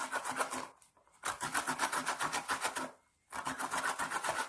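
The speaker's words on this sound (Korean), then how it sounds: "강판에다가 얘를 이렇게 갈아주세요." Food is rubbed back and forth across a kitchen grater in rapid rhythmic rasping strokes, close and clear, with two brief pauses between runs of grating.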